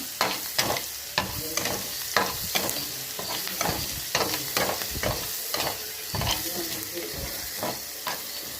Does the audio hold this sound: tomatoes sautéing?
yes